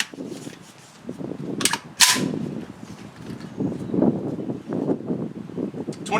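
Two sharp gunshots from a PSA AKV rifle firing 115 grain Federal ammunition at an outdoor range crack out in quick succession, followed by wind buffeting and rustling.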